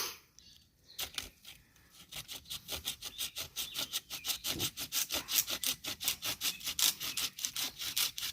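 Bahco pruning saw fitted with its original blade cutting through a branch: a quiet start, then a long run of fast, rhythmic rasping strokes, close and loud, without speech.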